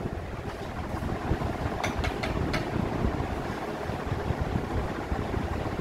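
An AC/DC electric fan running on DC power at turbo speed 6 gives a steady, close whirring rush of air with a low motor hum, continuous and unbroken throughout, with no talking.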